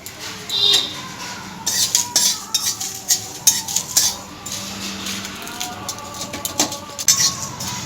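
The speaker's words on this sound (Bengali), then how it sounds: "একটা শুকনো লঙ্কা একটু গোটা জিরে আর একটু গোটা ধুনে এগুলো আমি শুকনো কড়াইয়ে ভেজে নিচ্ছি" Whole dried chilli, cumin and coriander seeds dry-roasting in an empty kadai, heard as uneven metallic scrapes and clinks of a spatula with the seeds rattling against the pan, close and intermittent.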